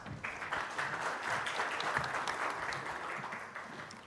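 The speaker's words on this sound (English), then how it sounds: "Let's welcome him with a nice warm round of applause." Sustained audience applause fills a conference hall at an aviation industry event, welcoming a company CEO to the stage: a steady, dense wash of many hands clapping at moderate distance, with no voices.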